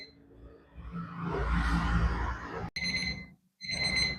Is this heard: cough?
no